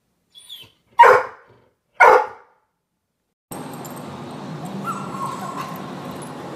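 A dog gives two or three sharp, loud barks close by, then a quiet pause, followed by steady outdoor background noise.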